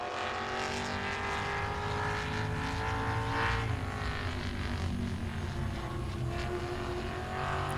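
A field of 21 Grand Stock race cars, including a Chevrolet, roaring around the oval at Langley Speedway during a 75-lap event, a continuous dense engine drone heard from a distance with no voices.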